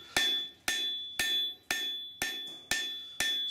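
An 800 gram hammer forging a full tang steel knife blade, seven evenly spaced, ringing blows at close range, each strike leaving a bright metallic tone that fades before the next.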